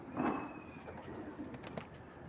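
Pigeons kept in a loft give a soft low coo close by, followed by faint rustling and a few light clicks in a quiet room.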